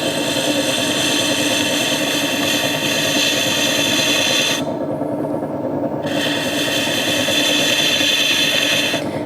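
A trimming tool shaves a plaster piece turning on a plaster lathe, giving a steady, loud, continuous rasping scrape over the motor's hum, with a short break in the scraping partway through.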